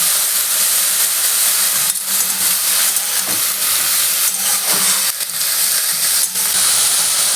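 Boiled mustard greens, peas and slit green chillies land in a hot pan for Bengali-style sarse shak bhaja, raising a loud, steady sizzle and hiss that fills the whole stretch, with brief dips and crackles and no talking.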